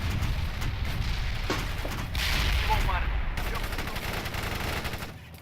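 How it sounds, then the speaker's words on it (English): Gunfire rattles in a battle in the video game World in Conflict, bursts of automatic fire and distant booms layered over a continuous combat din, with radio voices speaking. "APC is returning fire"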